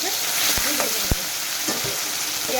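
Onions and tomatoes frying in mustard oil in a pan make a close, constant sizzle, with a few sharp clinks of a utensil against the pan.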